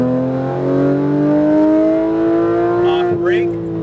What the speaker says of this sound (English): Throttle up right.